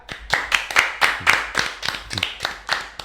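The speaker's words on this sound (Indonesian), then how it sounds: "Tepuk tangan semuanya." A few people clapping together at a podcast recording, about a dozen sharp, close claps in a steady rhythm over a few seconds.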